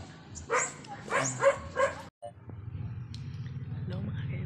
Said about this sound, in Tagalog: yung aso ko mga kanang